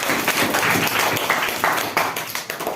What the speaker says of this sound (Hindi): कृपया तालियों से उनका स्वागत कीजिए